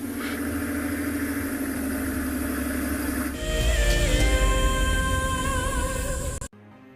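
A safari vehicle engine runs steadily on a morning game drive in South Africa, a continuous mid-to-low rumble that swells louder and rougher midway as the vehicle drives on, then cuts off abruptly near the end.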